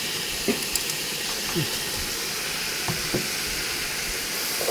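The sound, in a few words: meat frying in a pan for kongbul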